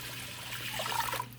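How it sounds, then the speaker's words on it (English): Two quarts of cold water pour steadily into a pot of toasted spices, a continuous close rushing splash that swells slightly before tapering off, with no talking. "I'm going to add 2 quarts of cold water"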